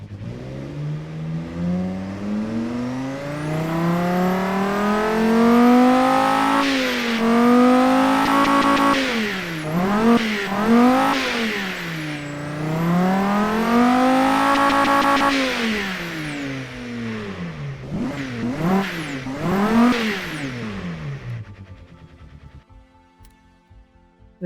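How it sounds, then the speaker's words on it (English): A video game car engine revs repeatedly, rising and falling in long sweeping pulls with high-pitched whine, loud and sustained before dropping off to near silence at the end. "Let's fire up this engine."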